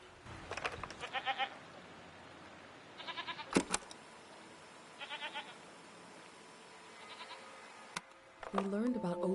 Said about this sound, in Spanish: de aquí hay cabras.